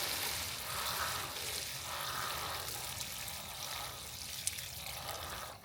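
Water poured from a hose or can onto plants in garden containers in a summer garden, a steady broadband splashing and trickling that runs throughout, with a brief sharp tick near the end.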